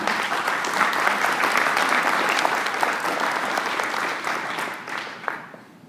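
Steady, dense audience applause welcoming speaker Tony Porter, holding at a strong level for several seconds before tapering off.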